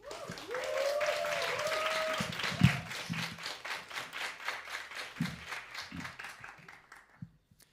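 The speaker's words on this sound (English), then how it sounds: "just to give them a big whoop and a cheer" A comedy-night crowd whoops and cheers with a rising vocal whistle-like shout early on, then claps in a burst that thins into scattered claps and fades near the end.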